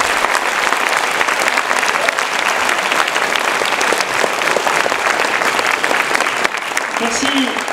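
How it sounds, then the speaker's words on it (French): Loud, continuous applause fills a student music concert hall at INSA Rouen, a thick wash of many hands clapping at once that carries evenly throughout, with a slight dip near the end. "Donc merci applaudissements pour ces 3 personnes."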